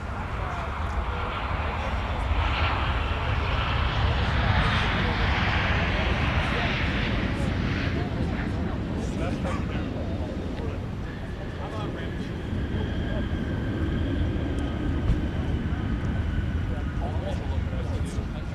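A United Airlines jet rolls for takeoff on runway 17 at MSP, a broad steady engine roar that holds for the whole stretch, with a distant rising whine and radio chatter from air traffic control mixed in.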